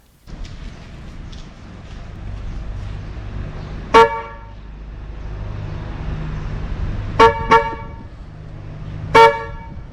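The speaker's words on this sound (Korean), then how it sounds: "제가 구입한 제네시스 혼을 저기 커넥터로 연결한 다음에 차량으로 가서 제대로 연결이 됐는지 테스트를 합니다" Aftermarket Genesis horn on a Kia Morning honks in short blasts: one at about four seconds, a quick double honk later, then a final toot, over a low engine rumble.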